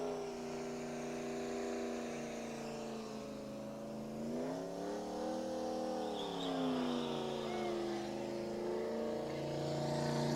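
A Chevy S10 pickup at Twin State Speedway in Claremont, New Hampshire, revs hard and steadily for several seconds. The engine pitch rises and falls as it strains to spin its tires, loud and fairly close.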